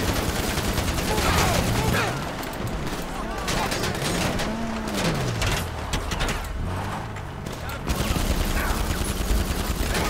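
Rapid bursts of auto pistol fire in the video game Lemonade Man, dense overlapping shots over a steady rumble of game sound, with someone talking over the action.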